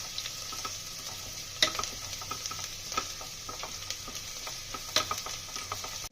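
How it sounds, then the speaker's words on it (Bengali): Onions fry with a steady sizzle in a pan for a vegetable pulao, with sugar added to caramelize them, while a spoon stirs and scrapes in irregular clicks and taps throughout. "পেঁয়াজটা ভালোভাবে ভাজা ভাজা করে নিতে হবে"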